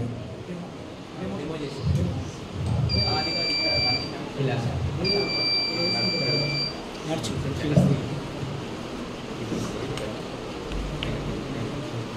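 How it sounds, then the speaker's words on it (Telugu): A smart shoe's obstacle-warning buzzer gives two steady electronic tones, each lasting about a second, while people talk throughout in the background. "అప్పుడు ఆ బజర్ గట్టిగా సౌండ్ చేస్తుంది."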